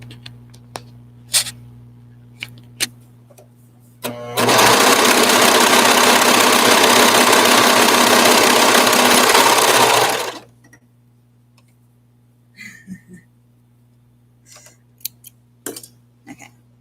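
A white serger overlock sewing machine stitches fabric in one loud, fast, continuous burst of about six seconds, with quiet clicks and handling noises before and after.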